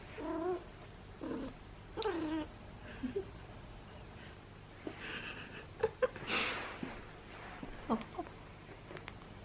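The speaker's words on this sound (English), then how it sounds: "So, we have a cat now." A pet cat making several close meows and throaty vocalizations in a quiet room, with soft breathy snorts and faint purring between the calls.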